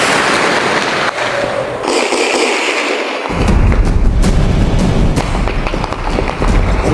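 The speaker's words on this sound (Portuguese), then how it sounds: "Muito tiro." Rapid bursts of gunfire in a wooded area amid a police operation, loud cracking and booming reports that merge into a dense, sustained barrage, the intensity rising partway through, with no talking.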